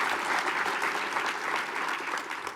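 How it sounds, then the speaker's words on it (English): Audience applause at an event on the Truth and Reconciliation Commission's final report: steady, even clapping from a crowd, sustained throughout and slightly tapering toward the end, with no speech over it. "So let's give them a round of applause as well."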